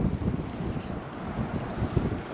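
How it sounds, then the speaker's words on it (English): Wind buffets an outdoor microphone during a bluegill fishing trip with a pocket-sized pen rod and reel. It makes a steady, loud, low rumble with uneven gusts and no voices. "It is a little bit windy"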